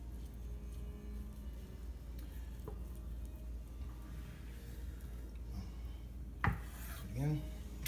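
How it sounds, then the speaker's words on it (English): A blunt kitchen knife saws slowly through a rolled sushi roll, a steady faint rasping scrape with a sharper squeak and thud near the end, quiet and close with no talking. "we're going to cut each side into 3 pieces"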